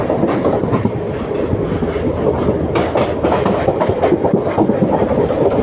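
A train speeds past near Coimbatore North station, a loud steady roar of wheels and rail rumble with rhythmic clickety-clack, close and continuous throughout.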